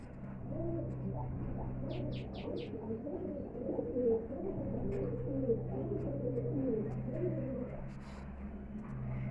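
Large high-flying pigeons coo in a steady, layered stream of low rolling calls, fairly close and continuous, with a brief flurry of sharper chirps partway through.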